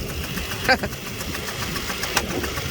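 A 2004 Jeep Liberty Renegade engine with a dropped rocker arm from a collapsed lifter idles steadily, broken by two sharp metallic clacks about a second and a half apart.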